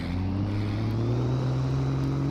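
A steady, droning race truck engine in the video game Farming Simulator 22 hums low and constant, with a slight rise in pitch as it picks up speed; no voices.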